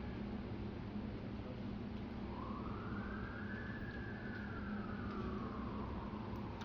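A siren sweeps up and holds a long wailing tone partway through, moderately distant over steady traffic rumble at night, fading again toward the end.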